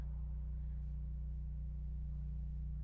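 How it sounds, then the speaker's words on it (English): A truck engine idles outside with a steady, low rumble, a continuous droning hum that holds even and unbroken throughout with no voices. "And their shitbag truck, too."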